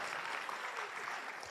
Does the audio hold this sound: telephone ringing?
no